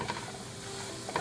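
A spoon stirring ground ginger, garlic powder, black pepper, garam masala and coriander powder in a cooking pan for cauliflower rice pilaf; brief scraping strokes with a faint sizzle, close and alone.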